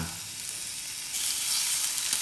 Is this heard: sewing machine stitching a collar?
no